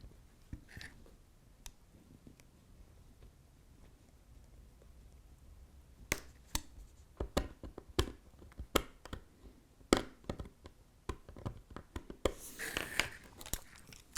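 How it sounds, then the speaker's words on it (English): A sharp hobby knife cutting away material around model railway points to clear space for soldering, heard as faint scraping that turns into a dense run of close, crisp crunching cuts. "with a sharp blade in my my sexy new knife, I'm just going to cut a little more access for my soldering iron to"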